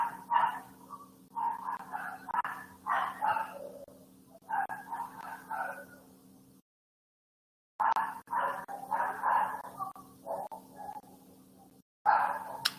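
A dog barks repeatedly from the street outside, in bursts of sharp woofs separated by short pauses, moderately distant and heard through an indoor room with a faint steady hum underneath.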